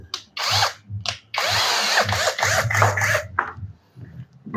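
A Dagmara cordless brushless 10mm drill set to drill mode bores into dense, heavy durian wood, whining in short close bursts that rise and cut off as the bit bites and stalls.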